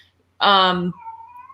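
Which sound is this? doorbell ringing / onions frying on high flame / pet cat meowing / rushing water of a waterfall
pet cat meowing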